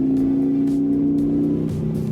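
A Harley-Davidson motorcycle engine runs at a steady, low, throbbing rumble close by, holding a fairly even pitch with slight rises, alone without talk.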